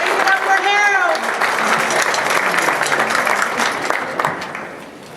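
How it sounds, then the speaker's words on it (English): Mourners at a home going memorial service applaud, a sustained round of clapping from a gathered crowd that begins under a voice and carries on evenly before tapering slightly at the end. "And give everyone a round of applause."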